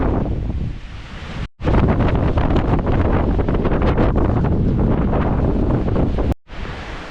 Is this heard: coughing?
no